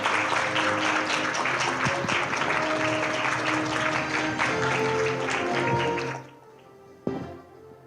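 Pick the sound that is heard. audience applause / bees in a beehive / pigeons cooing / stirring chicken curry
audience applause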